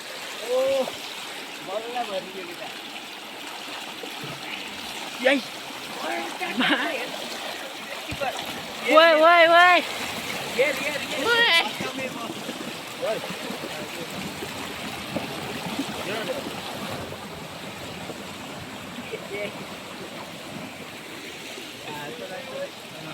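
Floodwater rushes through an irrigation canal with a steady broadband wash and occasional splashes, while people talk over the flow throughout.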